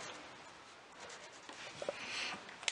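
A pen colors on paper in steady close scratchy strokes, faint and continuous with a few small taps, with no talking.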